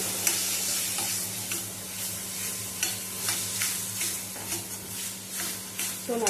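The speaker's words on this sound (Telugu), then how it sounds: "దీన్ని ఇప్పుడు మనం బాగా కలిపేసుకోవాలండి" Fish curry masala stirred with oil in a pan, a steady sizzle with repeated scraping strokes of a spoon against the pan in an even rhythm, close and fairly loud.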